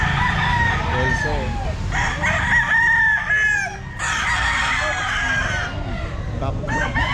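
Roundhead gamefowl roosters crowing repeatedly at a busy pet market, several overlapping cock-a-doodle-doo calls and clucks over constant crowd and market noise.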